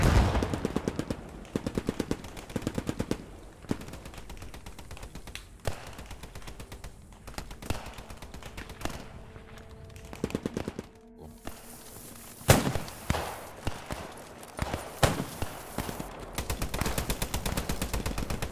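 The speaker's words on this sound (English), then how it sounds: "Oh, that's an MG." Rapid bursts of machine gun fire crackle in a Squad 44 battle, with repeated rhythmic volleys, a few pauses, some heavier nearby shots and thumps, and loud close fire across the whole stretch.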